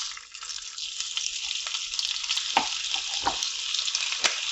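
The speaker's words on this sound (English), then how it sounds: "I'm going to put it in the oil" A single bacon slice sizzles in hot oil in a frying pan, a close, steady crackling hiss punctuated by several sharp spits and pops, with no talking.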